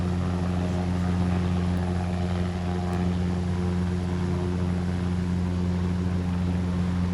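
A military helicopter hovers during a firepower exercise while troops deploy by rope, its rotor and engine producing a loud, steady, unbroken drone that fills the whole stretch without any voices.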